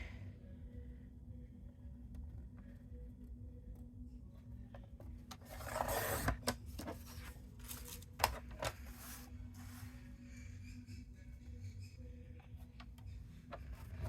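Paper trimmer slicing through paper for a mixed media Halloween craft project, a soft rasping rub swelling briefly midway over a quiet indoor room hum, with a few faint clicks afterward.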